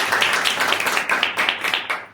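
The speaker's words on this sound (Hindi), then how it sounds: "नाम के लिए जोरदार तालियां" A church congregation claps together during a Sunday prayer service, a loud, dense burst of rapid, overlapping hand claps that continues evenly for about two seconds before stopping, with no voices heard.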